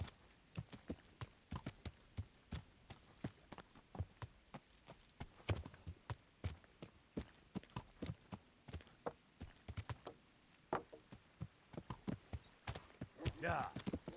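A horse's hooves clip-clopping in a video game: a steady, irregular patter of hoofbeats, faint and close, continuing throughout with a brief burst of other noise near the end.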